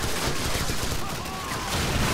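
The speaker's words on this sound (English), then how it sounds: "Seriously, there's a lot of bullets flying everywhere." Gunfire rattles nonstop in Call of Duty 4: Modern Warfare, dense overlapping shots and bursts forming a loud, continuous roar of battle.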